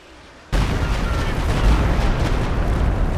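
Artillery barrage in Company of Heroes 2, bursting in suddenly after a quiet moment and continuing as a loud, dense rumble of blasts and booms.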